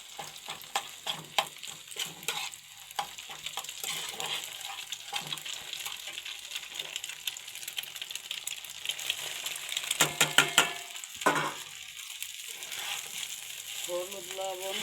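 Egg frying in a pan for Bengali fried rice crackles and hisses close by, broken up by frequent scraping and clattering stirring strokes.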